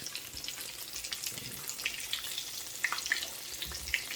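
Steady crackling sizzle of battered steak frying in a hot cast iron pan, with scattered sharp pops and spits, fairly close and without any talking.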